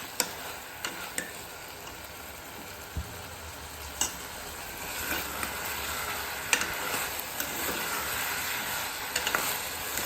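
Mixed vegetables fry gently in oil for veg pulao, giving a soft, steady sizzle with occasional light ticks and clicks of stirring.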